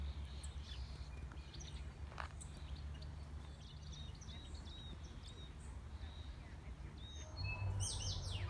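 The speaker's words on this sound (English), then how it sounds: "Listen to those beautiful birds." Birds sing along a riverside walk by the Manawatu River, scattered chirps and whistles near and far over a low steady rumble that grows louder near the end.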